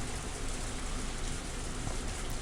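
Steady rain in the video game Higurashi When They Cry, a continuous even hiss of falling water with no voices.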